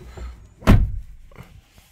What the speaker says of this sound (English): make sure the door's shut as well